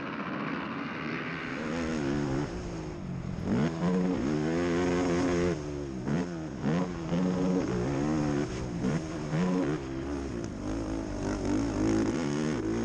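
ATV engines drone and rev continuously at a motocross race, pitch rising and falling as throttles open and close on a slippery track, a busy layered roar with no voices.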